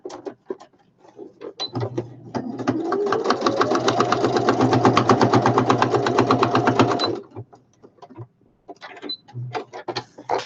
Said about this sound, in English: there I've just sewed it there with a straight stitch